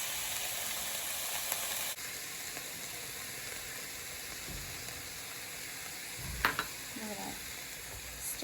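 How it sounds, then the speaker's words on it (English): Onions and mixed vegetables sauté in olive oil in a pan for a chicken curry stew, giving a steady close sizzle and hiss throughout, with a few brief stirring scrapes near the end. "we're gonna allow these vegetables to saute for about 10 minutes or until like the onion turns like a yellow tint"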